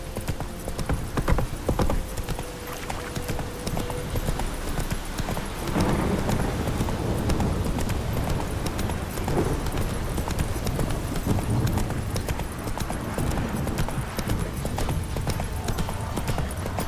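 A horse gallops in the video game The Witcher 3: Wild Hunt, steady rhythmic hoofbeats with a brief whinny, continuing unbroken over a wash of ambient game sound.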